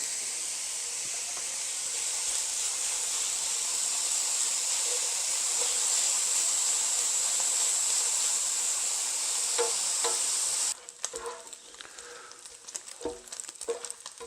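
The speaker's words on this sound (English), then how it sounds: "we're just going to throw that in, and we're going to cook it until the bacon's kind of crisp" Old-fashioned bacon strips sizzling in a hot frying pan, a steady bright hiss for about ten seconds that suddenly drops to quieter crackles and pops.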